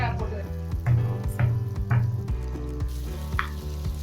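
Onions and tomatoes sautéing in a pan for poondu kulambu, a close crackling sizzle with a few sharp scraping strokes of a spoon over about four seconds.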